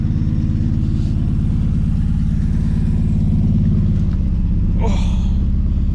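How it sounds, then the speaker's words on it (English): The engine of a 1963 Plymouth Belvedere, left sitting since 1978, runs after a restart: a loud, steady low rumble idles close by throughout, with a brief voice near the end. "We're gonna shut it off for a second, and we'll see if she fires back up"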